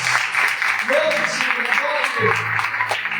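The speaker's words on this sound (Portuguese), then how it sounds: "As palmas louvam a Deus, igreja." A church congregation clapping in praise during a service, with brisk, dense rhythmic hand claps that run under a voice speaking over them throughout.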